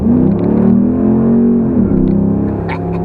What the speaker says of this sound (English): let's see if the old truck can catch second gear